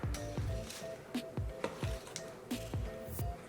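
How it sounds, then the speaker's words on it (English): Sugar stirred into apricots in a jam pot, a thick wet squelching with a rhythmic run of spoon strokes, fairly quiet and close. "We're going to give that a quick stir"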